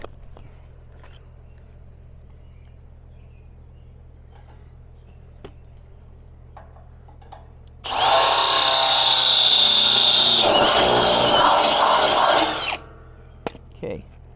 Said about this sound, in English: I got a drill bit here and we're going to just round that out.